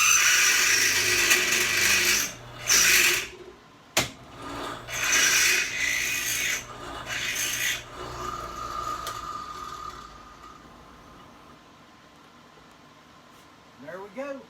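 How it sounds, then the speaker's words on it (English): A hand file rasps against a bit in repeated strong back-and-forth strokes, loud and close, then fades into quieter scraping and near silence. "Need to sharpen my bit."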